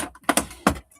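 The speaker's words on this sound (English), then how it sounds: "She hit this ruler is what that noise was." A cat knocks a ruler on a desk, giving a few sharp, close clacks and taps in an uneven cluster, with a brief rattle at the end.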